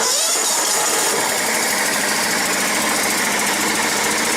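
A John Deere STX 38 lawn tractor engine runs at a steady idle, loud and close, with a constant buzzing drone and no voices.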